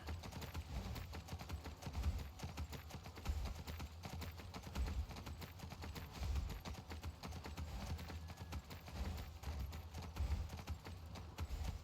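Horse hooves clip-clopping steadily while riding in Skyrim, a continuous rhythmic trot of soft thuds under a faint, even background wash.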